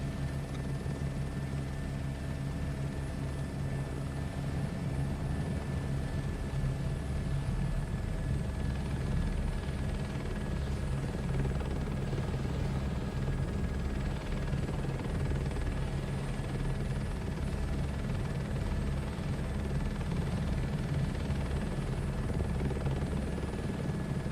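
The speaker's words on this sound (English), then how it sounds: "Maybe better helicopter noises." A helicopter engine in Microsoft Flight Simulator 2024 runs during power-up, a steady, loud rotor-and-turbine drone with a thin constant whine that holds the whole time, with no talking.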